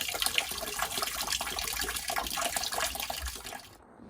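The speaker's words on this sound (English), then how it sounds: "we're going to make sure that we flush all this out." Dirty water flushes out of a domestic heating system during a Viessmann boiler installation: a steady, rushing gush of water runs for about four seconds, then abruptly stops.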